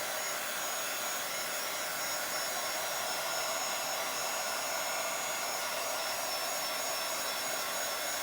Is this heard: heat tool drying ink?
yes